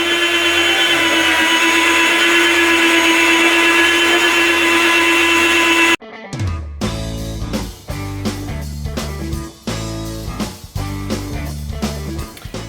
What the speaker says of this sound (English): So I could be cutting this with my knife, but I can get it super thin with my slicer.